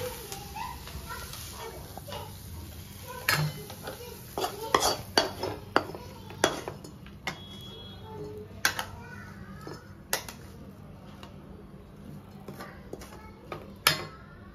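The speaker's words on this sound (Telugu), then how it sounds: "జస్ట్ ఒక 2 మినిట్స్ అలా వేగిన తర్వాత కొంచెం అడుగంటుందండి, అది బాగా గీకేసేసుకొని మనం గిన్నెలోకి వేసుకుంటాం." Utensil scraping spinach and coconut fry stuck to the bottom of a pan, a series of sharp metallic scrapes and clinks at irregular intervals, fairly close, with no talk.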